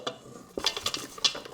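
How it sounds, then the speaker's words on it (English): A whisk stirs flour and milk together in a large bowl for Portuguese custard tarts, giving quick, close scraping and clinking taps against the bowl in uneven bursts. "Whisk it, whisk it, whisk it till it's smooth."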